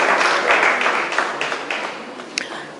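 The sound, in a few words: audience applause for Calypsonians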